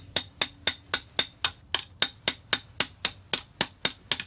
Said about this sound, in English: I'm going to take my very long screwdriver again and try to pry this off.